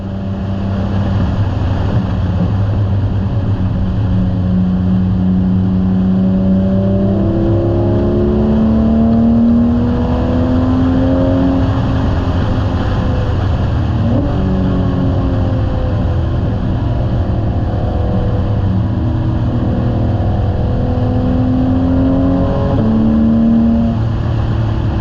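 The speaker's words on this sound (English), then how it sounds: "let's listen to the cars for a little bit" The Moonshiner 28 rally car's engine drones steadily as it climbs a smooth mountain road in the Smoky Mountains, pitch rising and falling through gear changes. The sound is loud and close throughout, with no talking.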